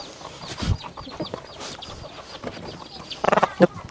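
A farm rooster clucks in short, close bursts, with a tight cluster of clucks near the end, against a busy outdoor background of low rustling and scattered noises.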